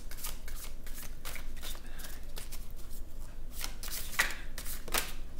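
Hands shuffle an Everyday Witch Oracle deck, making quiet, close, papery riffles and slides that come in irregular bursts with no talking.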